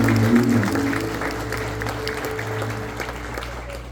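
A church congregation at a graduation service claps together, a dense burst of applause that is loudest at the start and then tapers slightly over a few seconds.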